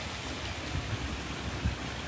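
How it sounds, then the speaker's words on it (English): Waterfalls pour steadily inside a big cat rescue enclosure, a loud, continuous broadband rush of falling water with a few brief low thumps and no talk. "I know it's very loud with all your waterfalls"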